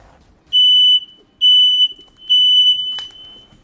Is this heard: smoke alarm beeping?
yes